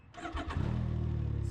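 Can-Am Ryker 900 three-wheeler engine cranking briefly and catching, then settling into a steady, smooth, close idle that continues to the end.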